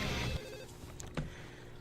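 A phone rings in the video game No More Heroes, quiet and brief, with a few electronic ring tones mixed among other game sounds.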